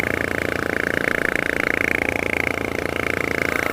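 A brand new Harley-Davidson Fat Bob motorcycle engine drones steadily while riding, a continuous rumbling hum with wind noise, loud and close throughout.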